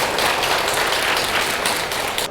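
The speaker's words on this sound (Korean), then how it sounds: "축복의 박수 한번 쳐볼까요?" A church congregation at a Sunday service for a disabled persons' church applauds together, a dense, steady wash of many hands clapping at once with no break and no talking over it.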